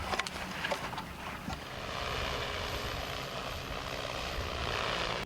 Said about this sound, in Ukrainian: Рейс за рейсом дрон тягає важкі протитанкові міни та скидує в необхідні квадрати